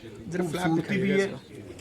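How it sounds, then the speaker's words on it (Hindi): Pigeons coo softly in a low, rolling murmur, a few overlapping calls close by with a quiet pause between. "इनके कबूतर बड़े अच्छे लगे हैं"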